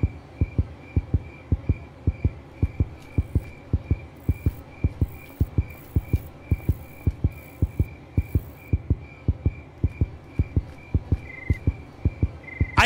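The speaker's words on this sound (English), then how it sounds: "I don't like this constant heartbeat thumping in my ear." A steady, looping heartbeat thumps in the horror video game Granny 3, with about two dozen evenly spaced, loud low beats over a faint hum. Light electronic tones sound in the background, and no one speaks.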